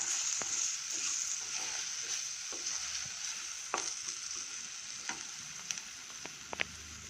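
Red chilli powder frying in a pan after five Byadgi chillies went in, a steady close sizzle with a few soft stirring scrapes and taps over it.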